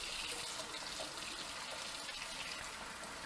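Water being poured out and changed, a steady continuous splashing pour close by with no talking.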